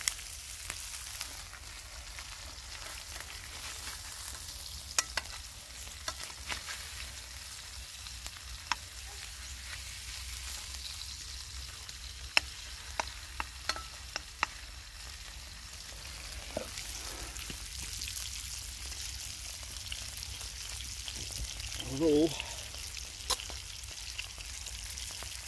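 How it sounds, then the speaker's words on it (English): Spam and eggs fry in a pan at a lakeside camp, giving a steady soft sizzle with scattered crackling pops and a brief louder burst of spitting near the end. "just making some spam and eggs"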